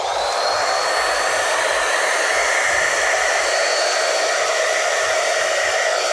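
A vacuum cleaner runs continuously at high volume, its motor droning and whining steadily from start to finish with no voices.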